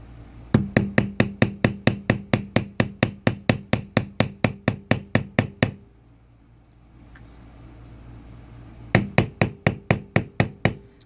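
Rapid, steady hammer taps on a leather beveler tool repeat in a long run, pause for a few seconds, then resume in another quick burst, close and loud.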